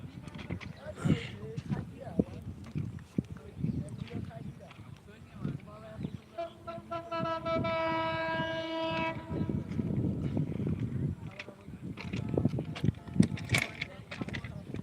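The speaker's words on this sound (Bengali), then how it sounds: "ট্রেন কিন্তু খুব দ্রুত আসছে ভাই" A train approaches along a railway line, its rumble building as a long horn blast sounds in the middle, with people talking loudly over it nearby.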